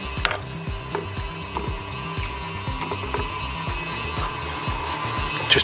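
Trimming tool scraping around the rough top edge of a thrown clay cup turning on a potter's wheel, a steady rasping, whirring texture with a low rhythmic drone that runs continuously and close throughout, with no talking.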